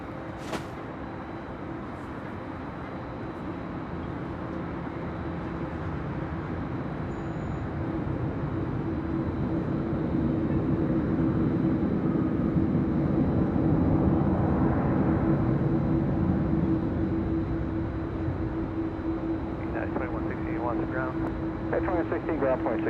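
An airliner taking off at LAX makes a broad, steady roar that swells gradually and holds loud through most of the stretch, with air traffic radio chatter running over it.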